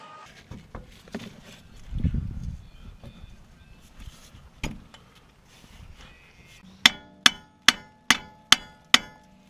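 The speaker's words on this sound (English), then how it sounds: "with enough prying and hammering, the strut should slide out of the knuckle" Scraping and prying noises on a VW MKIV Golf's front suspension, then six evenly spaced sharp hammer blows ringing out as the strut is driven from the steering knuckle, close and loud at the end.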